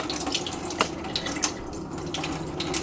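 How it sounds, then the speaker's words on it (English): Water splashes and trickles steadily as rice is swirled by hand and rinse water is poured off in a kitchen sink, with small clinks near the end. "we're doing the second rinse, and I'm just swirling it with my hands. And just pouring it over."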